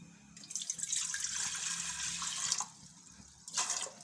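Water pours steadily into a cooking pot for dal for a few seconds, a splashy hiss that briefly stops and resumes near the end.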